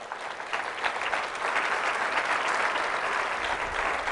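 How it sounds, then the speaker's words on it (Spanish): A church congregation claps steadily together in worship, dense, sustained applause filling the room for several seconds with no speech over it. "Dale palmas al Señor."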